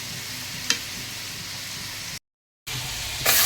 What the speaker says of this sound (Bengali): তেল গরম হয়ে গেছে এখন ভেজে নেব